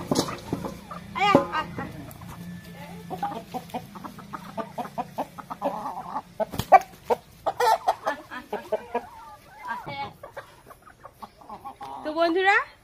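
Desi chickens cluck and squawk in a household yard, with repeated bursts near and far, a louder flurry at the end, and a person speaking among them.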